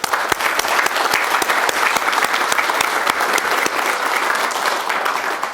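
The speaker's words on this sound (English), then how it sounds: "just give them a round of applause" Sustained applause from an audience of city staff and guests at the Woodinville 2022 State of the City event, dense and steady throughout with a few sharper individual claps standing out.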